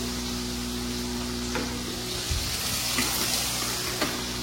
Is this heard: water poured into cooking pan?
yes